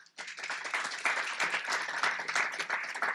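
Sustained audience applause at a luncheon, a dense, steady wash of many hands clapping that swells up quickly and holds at an even level.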